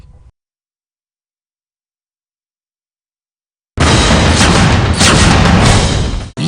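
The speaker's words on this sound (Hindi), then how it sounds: "जो बोफोर्स तोप का गोला है वो दुश्मन के इलाके में जाकर गिरता है" A Bofors howitzer fires at the Line of Control in Kargil, a sudden loud blast after a long silence, followed by a few seconds of heavy roaring rumble that cuts off abruptly.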